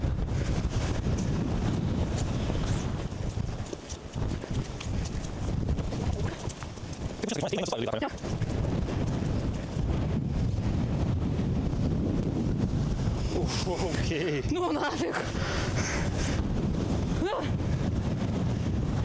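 Strong gusty wind buffets the microphone on an exposed spot on Madeira, roaring steadily with loud surges, while people talk briefly over it.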